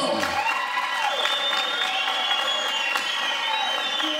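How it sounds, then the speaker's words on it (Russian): Spectators at an amateur combat fight applaud and cheer both fighters before the result is announced, a lively crowd with clapping, whoops and shouting voices throughout. "попрошу аплодисменты обоим бойцам"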